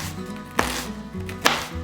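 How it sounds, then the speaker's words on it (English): Two sharp knife chops on a cutting board, spaced about a second apart, close and fairly loud against a quiet kitchen background. "And then just dice it up nice and small."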